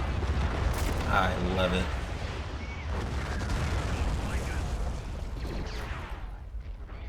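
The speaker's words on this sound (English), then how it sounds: "just all the explosions down the line" A rolling roar of explosions runs along a line of battle droids in a Star Wars battle of Naboo game, a continuous heavy rumble of blasts and distant booms, with someone briefly speaking over it.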